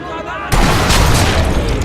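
A sudden loud grenade blast in a video game hits halfway through, then a dense roar of rumbling, crackling noise lingers to the end.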